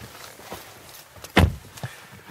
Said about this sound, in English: As the soft closed door clicks into place, you settle yourself behind the wheel